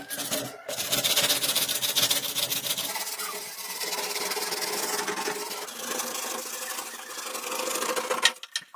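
Sandpaper wrapped around a wooden block scraping rust off a metal refrigerator surface, a continuous harsh back-and-forth rasping that is loud and close, sounding alone without talk.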